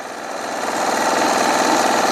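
A sewing machine runs fast and loud, stitching organza dress fabric with a continuous, dense mechanical whir that builds slightly and holds steady.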